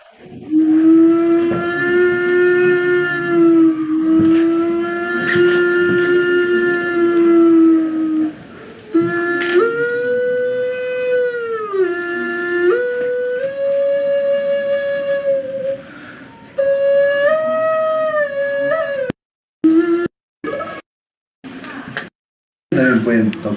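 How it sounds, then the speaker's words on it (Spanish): Zoomorphic ceremonial clay ocarina shaped like a female puma, blown in long, steady, shrill whistling tones that slide and shift pitch across several phrases, loud and close, ending in short clipped notes. "Voy a tocar una ocarina zoomorfa, puma hembra,"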